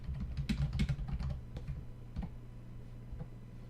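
Bursts of typing on a computer keyboard, quick close clicks that come fast at first and then thin out to a few scattered keystrokes.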